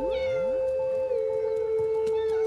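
A black cat meows in a long, drawn-out wail, loud and close, followed by a few shorter, softer mews, with no talking.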